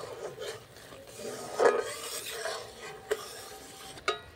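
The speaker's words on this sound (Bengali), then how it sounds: "আর একটু নাড়িয়ে নেব।" Sugar syrup with cardamom seeds being stirred in a pan, giving soft scraping and rubbing strokes with a few light clinks of the spoon against the metal, fairly quiet and close.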